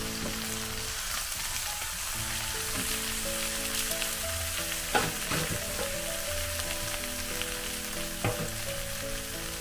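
Pork fat sizzling and rendering in a Saladmaster skillet for pork leg humba, a dense continuous crackle close by with occasional sharper pops and a faint low hum underneath, no voices.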